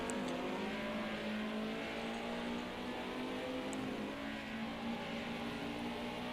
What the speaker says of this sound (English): We'll hear him going down those gears, sliding that car in to turn number 1.